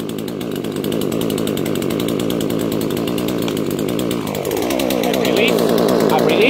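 A chainsaw cutting down a tree in a neighbor's yard runs loud and close with a continuous buzzing drone. Its pitch dips and shifts partway through, then climbs and holds steady again.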